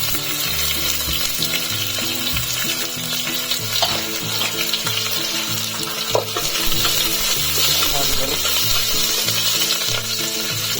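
Cumin, mustard seeds, onions and chillies fry in hot oil with a loud, continuous sizzle, punctuated by clinks and stirring scrapes, close up and without speech.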